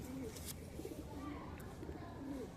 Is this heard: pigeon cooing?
yes